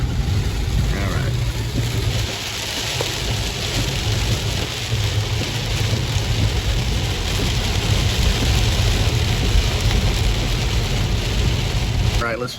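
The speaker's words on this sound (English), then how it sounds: "I do still have my umbrella, and I have delivered in rain like this before" Heavy rain pours during a rainstorm as a dense, steady hiss with low rumbling underneath, loud and unbroken throughout, with no clear voice standing out.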